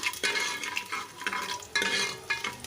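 Garlic, curry leaves and green chillies fry in oil for pongal, giving a close bright sizzle broken by several bursts of stirring and scraping in the pan.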